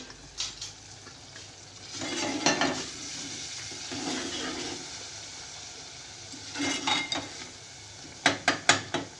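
Matar keema with softened tomatoes sizzles in a pan while a spoon scrapes, stirs and mashes it in repeated bursts, ending in a few sharp knocks against the metal.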